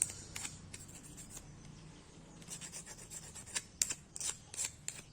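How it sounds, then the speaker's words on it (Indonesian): Sandpaper rubbing on a homemade PVC pipe dart-blaster part, quiet dry rasping strokes that start sparse and grow into a quicker run of short scratchy passes near the end, with no voices. "Ini kalau masih seret berarti ini minta di amplas."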